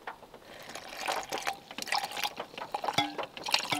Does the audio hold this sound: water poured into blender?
yes